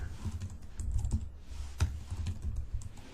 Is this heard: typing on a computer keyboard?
yes